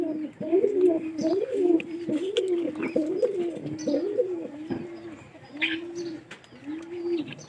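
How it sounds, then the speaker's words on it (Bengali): Domestic pigeons, a cock and a hen kept together in a pigeon house, coo in steady repeated low throaty phrases close by, with faint chirps and a little background voice and handling noise. "পায়রা আছে, পায়রি আছে।"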